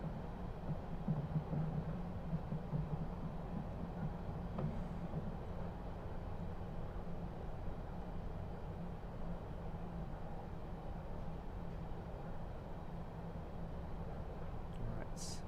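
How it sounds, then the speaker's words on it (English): A London Underground Metropolitan Line train in Train Simulator 2020 slowly brakes toward a halt, a low steady rumble and faint hum continuing evenly throughout at low volume. "Nice and slowly, let's bring the train to a halt."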